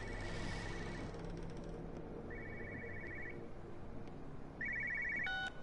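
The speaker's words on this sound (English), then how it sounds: "I love how loud these phones are." A telephone rings inside a house in the video game Everybody's Gone to the Rapture, three trilling bursts spaced a second or so apart over a low, steady ambient hum, fairly faint overall.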